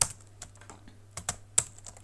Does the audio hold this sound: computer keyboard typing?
yes